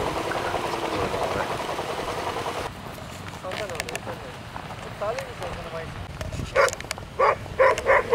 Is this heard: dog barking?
yes